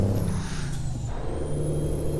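Air brakes on a truck in the American Truck Simulator driving game let off a loud, broad hiss that sits over a continuous low engine rumble, with a thin high whine running across.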